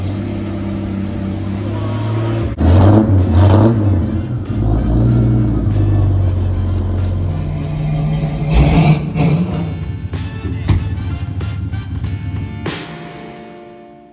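A vehicle engine with its exhaust gasket fitted revs and rumbles steadily for several seconds, rising in a few stronger surges before settling back toward idle, heard loud and close from inside the cab.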